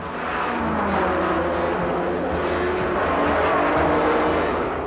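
Cobra and Ferrari race cars roar past on a circuit, a loud, continuous engine blare with rising and falling passes and brief tire squeal, filling the whole stretch without talk.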